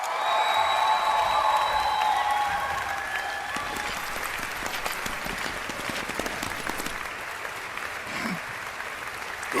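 An in-game crowd in Final Fantasy VII Rebirth claps in a full burst of applause that slowly thins into scattered, fading clapping.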